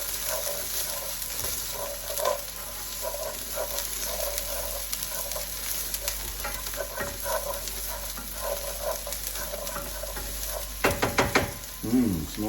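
Onions sizzling in a very hot pan on low heat, a continuous hiss broken by rhythmic stirring scrapes and a burst of clattering near the end, moderately loud and with no voices.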